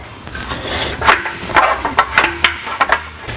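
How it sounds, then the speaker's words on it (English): A big rubber mallet knocking apart the factory exhaust pieces of a Jeep Wrangler JL, giving a run of close, dull thuds in quick succession, about eight blows in a few seconds. "A big rubber mallet definitely comes in handy to separate these pieces."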